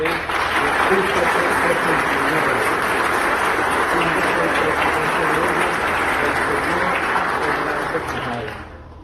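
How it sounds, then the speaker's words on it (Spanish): Sustained, loud audience applause during a Venezuelan news broadcast, an even wash of many hands clapping that holds steady for about eight seconds before fading out at the end. "me gustaría ofrecer un aplauso para ellos"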